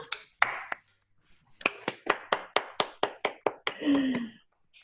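Participants in a virtual online meeting applaud at its close, a series of sharp, separate claps picked up over laptop microphones, arriving one after another in a loose rhythm before a short voice breaks in at the end.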